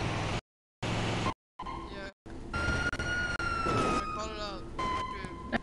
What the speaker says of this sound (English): Turn on your sirens.